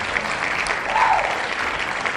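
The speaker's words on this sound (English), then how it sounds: "So hand clap to you" A short burst of steady applause, a dense wash of clapping at moderate loudness with no talking over it.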